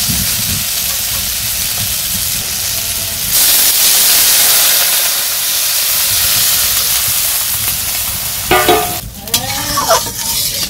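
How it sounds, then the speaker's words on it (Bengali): Water poured into a pan of sautéed vegetables in a village kitchen sets off a loud, steady sizzling hiss that swells after a few seconds and holds, with a few sharp clatters near the end. "সবজি যে কষালে সেখানে জলটা দিয়ে দিই।"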